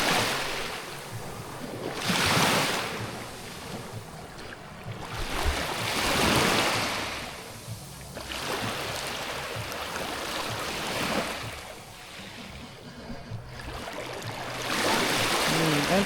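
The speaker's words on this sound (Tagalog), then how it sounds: "Ang alon ng dagat." Sea waves breaking on a shore, a series of loud surging crashes roughly every few seconds, each swelling and then receding into a softer wash with wind noise between them.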